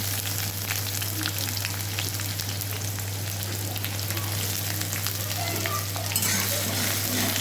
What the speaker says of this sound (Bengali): এবার আমি এর মধ্যে পেঁয়াজ কুচিটা দিয়ে পেঁয়াজটা হালকা লাল করে ভেজে নেব